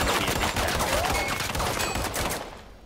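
Rapid bursts of video-game gunfire, dense automatic fire crackling continuously and loudly for nearly three seconds before trailing off at the end.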